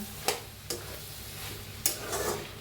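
Cooked bitter gourd sabzi with fresh coriander is stirred in a pan, giving a few sharp scrapes of the spoon over a faint low sizzle, quiet and close with no talking.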